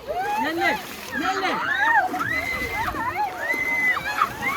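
Water splashing in a river as family members bathe at the Mahakumbh in Prayagraj, sloshing under loud, excited voices and shouting close by.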